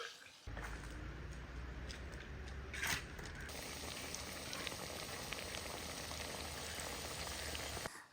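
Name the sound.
fish pieces frying in oil for Kerala fish pickle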